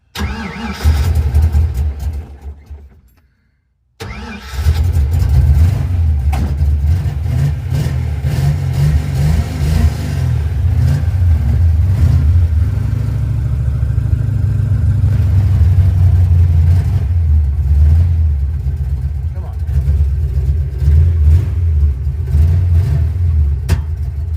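A car engine fitted with an Edelbrock 1405 carburetor, troubled by starting and idling issues, runs loud and close with a low rumbling drone and uneven revving after a brief cutout, backfiring through the exhaust.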